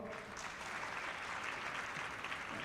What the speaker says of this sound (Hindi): अब सारे ताली बजाओ।